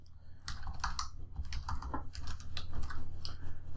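Steady close typing on a computer keyboard as a name and password are entered, a continuous run of quick, fairly loud key clicks with no talk over it.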